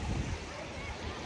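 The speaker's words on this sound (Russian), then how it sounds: "Море в Анапе." Sea waves wash on the shore at Anapa, a steady broad surf roar with gusts of wind buffeting the microphone throughout.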